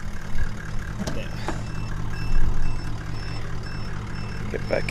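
Periodic electronic beeping from a car's safety warning, a short regular tone pattern repeating through the clip over a steady low engine idle, heard from inside the vehicle.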